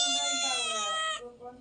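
A single drawn-out, high cat meow sounds close by, sliding slightly downward before breaking off into a brief softer trailing note.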